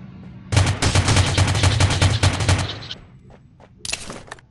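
A loud burst of rapid automatic gunfire in the shooter Rules of Survival, about a dozen fast evenly spaced shots rattling close by, then a pause and a few scattered follow-up shots.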